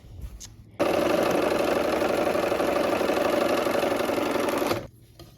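A sewing machine runs steadily for about four seconds, stitching cream quilt fabric strips onto opposite sides of a centre block, a continuous close mechanical whir that starts and stops abruptly.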